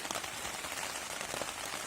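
Heavy rain drums steadily on a taut tent fabric close by, a dense continuous patter with no voices.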